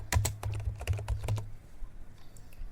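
Quick bursts of computer keyboard typing, a handful of crisp close key clicks in a rapid cluster, then quiet room tone.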